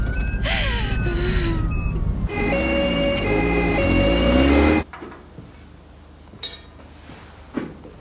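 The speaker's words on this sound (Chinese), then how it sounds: "救护车马上就到医院了" An ambulance siren wails loudly with steady repeating tones over vehicle rumble, then cuts off abruptly, leaving a quieter room with a few faint knocks.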